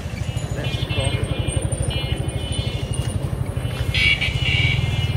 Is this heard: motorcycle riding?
yes